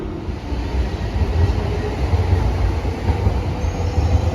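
Loud, close rumble and rattle of a train on the North London Line slowing into West Ham station, a dense continuous rolling roar of wheels and carriages with faint high squeal, heard from on board.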